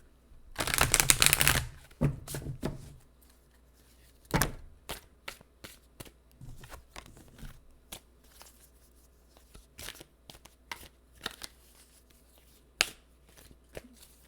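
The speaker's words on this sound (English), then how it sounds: "let me shuffle one more time" Tarot cards being shuffled: a loud riffling burst near the start, then scattered soft taps and flicks of cards being handled close by, with no talking.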